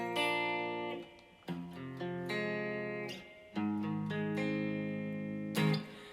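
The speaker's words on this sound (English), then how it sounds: "he plays them as arpeggios" Guitar chords picked as ringing arpeggios, each chord's notes sounding one after another and sustaining, with several chord changes over a few seconds, clear and alone.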